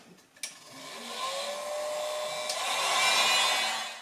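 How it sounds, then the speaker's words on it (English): A heat gun blows hot air onto a clay pot thrown with sodium silicate, a steady broadband whoosh that starts with a click and holds at a constant level for several seconds with no talking. "now I'm going to apply some heat with the heat gun"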